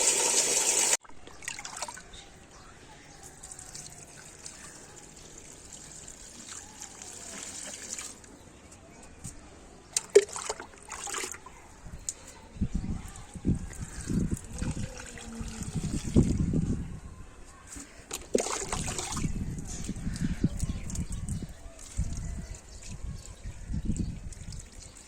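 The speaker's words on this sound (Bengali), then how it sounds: "এখন আমি বালতিতে জল বোঝাই করছি।" Water from a tap runs and trickles into a bucket at home, a soft steady flow with splashes and clatters, joined later by louder pouring bursts.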